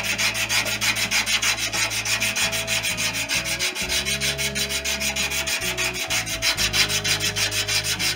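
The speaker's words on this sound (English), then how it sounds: "Just a thin strip of emery, and it's a case of don't put too much tension on" A thin emery strip drawn back and forth to round the plywood leading edge of a wooden kit-plane tail gives a steady, rhythmic rasping rub, close and continuous with no talk.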